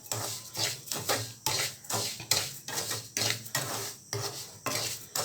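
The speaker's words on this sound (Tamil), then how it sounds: "இப்போ இந்த மாதிரி நம்ம கிளறி கொடுக்கணும்." A melting sugar mixture for coffee chocolate is stirred in a pan, with about eight rhythmic scraping strokes of a utensil against the metal, each followed by a brief pause, close and alone.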